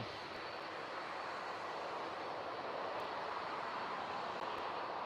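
A jet airliner departing East Midlands Airport for Bologna roars as a steady, broad, distant engine rush, continuous and fairly faint throughout with no talk.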